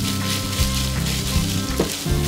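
Green peppers and pork stir-fried together in a hot pan for chinjao rosu, the sauce thickened with potato starch, giving a loud, continuous close sizzle broken by brief scrapes and tosses of the spatula.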